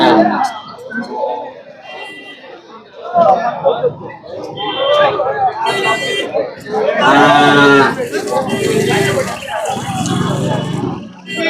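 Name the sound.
Punganur cattle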